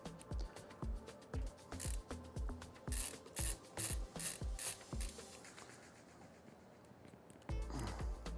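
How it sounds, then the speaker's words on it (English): Screws being driven into the back panel of a Cougar OmnyX PC case, heard as a series of short, even scraping and ratcheting bursts, fairly close, with a louder rasping stretch near the end and no talking. "Just quickly putting all the screws in the back here."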